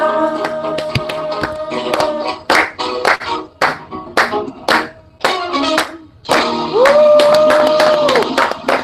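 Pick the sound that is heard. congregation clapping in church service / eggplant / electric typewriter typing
congregation clapping in church service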